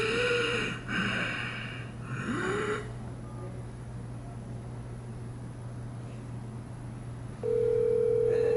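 A telephone line hums with a steady low tone throughout, broken early by a few breathy, snorting noises, then a clear dial tone switches on loudly near the end.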